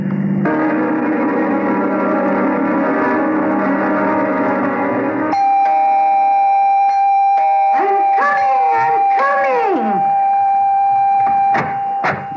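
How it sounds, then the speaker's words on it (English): A door buzzer-style bell in an old-time radio drama rings in sustained, forceful bursts, a loud steady tone droning for several seconds before voices start talking over the ringing. "Don't have to rip the bell off the door, young man."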